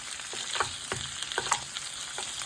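LA galbi beef short ribs sizzle as they grill, giving a steady crackling fry with scattered sharp pops and spits. The sound is close and continuous, with no talking.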